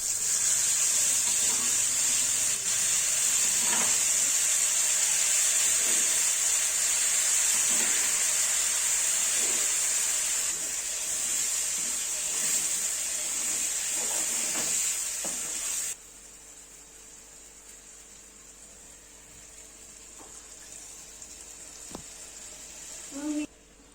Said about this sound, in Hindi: तेल के अंदर थोड़ा सा जीरा डाल के और छौंक लगा दूंगी।